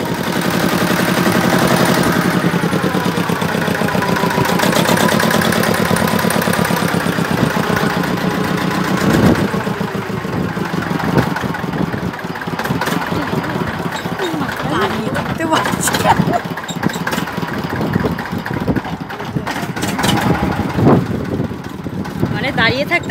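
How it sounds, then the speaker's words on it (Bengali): Motorboat engine chugging on the Ganga river, a steady mid-pitched throbbing drone that runs throughout while people talk nearby over it. "একটা ভটভটি আওয়াজ হচ্ছে"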